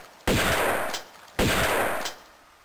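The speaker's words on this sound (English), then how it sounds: "Wait, I want to use my shotgun." Two loud, close shotgun blasts in Tomb Raider II Remastered, about a second apart, each with a sharp attack and a long fading tail.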